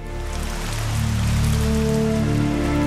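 Steady heavy rain patters densely on a surface, a continuous wash that swells slightly louder partway through, with a low droning tone underneath, used to depict liquid methane rain on Titan.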